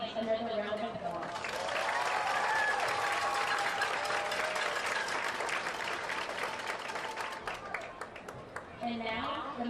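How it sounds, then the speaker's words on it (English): Crowd at a Texas high school homecoming ceremony bursts into sustained applause and cheering for the court nominees, a loud, full roar of clapping that swells and holds for several seconds before tapering, with an announcer's voice at the edges. "Let's give each of these beautiful little deserving young ladies another round of applause."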